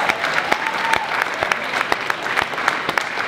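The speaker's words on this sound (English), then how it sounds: "you sound fairly vocal and you're clapping a little bit" A marathon event crowd claps steadily, a dense ripple of handclaps with a few sharp individual claps standing out, loud and close.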